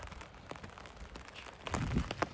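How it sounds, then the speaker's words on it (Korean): Rain patters steadily on the grassland steppe of Mongolia, a dense soft hiss of drops with a few louder close taps near the end. "빗소리가 좋은데"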